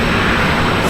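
An American Airlines A321-300 arrives at Raleigh-Durham International Airport, a loud, broad jet roar filling a brief moment without pause.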